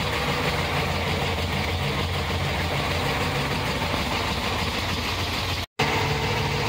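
A 1977 Chevrolet Corvette C3 idles with a loud, throaty, steady rumble, heard close with no one talking and a split-second dropout near the end.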